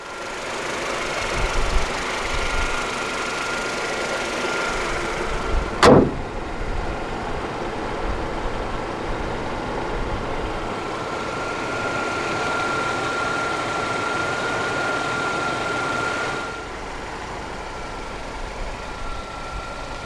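A 1996 Mercedes-Benz SLK 230 Kompressor with its supercharged four-cylinder settles into a steady idle, a low, even engine hum with a brief sharp noise near the start, fairly quiet and close, with no voices.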